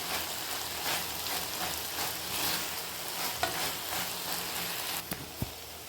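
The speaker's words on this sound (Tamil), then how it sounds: "வெண்டைக்காய் வதங்கி வருது." Ladies finger (okra) sautéing in a pan, a soft continuous sizzle with spatula stirring scrapes and a couple of light knocks near the end, moderately quiet and close.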